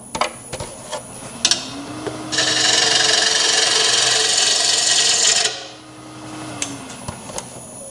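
A bowl gouge with an Irish grind makes a pull cut on spinning wood on a lathe, a loud steady rasping shave lasting about three seconds amid the lathe's hum and a few knocks before and after.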